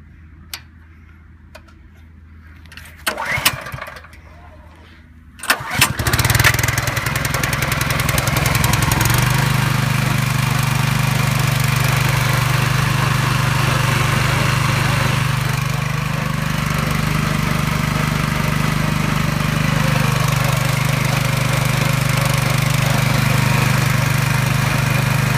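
A DC generator's small engine starting up: a few quiet clicks and pulls, a sharp catch, then a loud, steady mid-pitched running drone that continues close by without talk.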